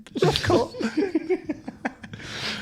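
A sharp sneeze bursts out close by, followed by a few breathy, snorting sounds.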